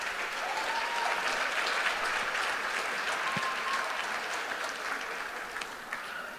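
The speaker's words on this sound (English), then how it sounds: "please give the Titusville seniors a round of applause." A basketball crowd applauds the Titusville seniors on senior night in a gym, a continuous, full round of clapping at steady volume that tapers slightly near the end.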